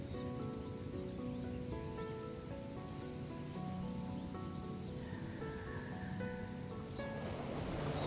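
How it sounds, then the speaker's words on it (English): Steady ocean surf washes continuously in the background, a broad even roar of waves layered under soft sustained musical tones. "ocean in the background to let it feel a little more watery and organic"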